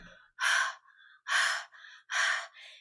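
Three loud, harsh panting breaths after fast running, each followed by a softer intake, close to the ear in a quiet space.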